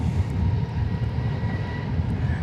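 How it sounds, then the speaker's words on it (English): An American Airlines Airbus A321neo taking off at Dallas/Fort Worth airport on a flight to Las Vegas, a steady, loud low engine roar with wind rumble, heard from the ground. "as we watch this flight to Las Vegas take flight. American Flight 599 in Airbus A321 Neo."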